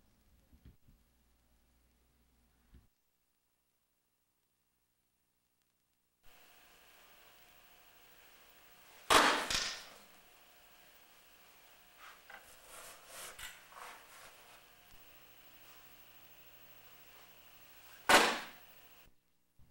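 A kama, a bladed martial-arts weapon, is thrown at a target at weapons-throwing practice, giving two sharp, loud impacts about nine seconds apart with scraping and rustling between them, after a stretch of near silence.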